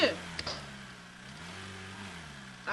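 A game car bogged down in sand in Drive Beyond Horizons holds a low, wavering engine rev, with a brief voice at the start and another near the end.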